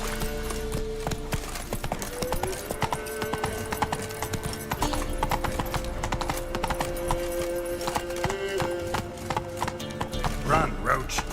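Roach the horse gallops in The Witcher 3, hooves clip-clopping in a steady rapid rhythm over a continuous game soundscape, with brief voice-like bursts near the end.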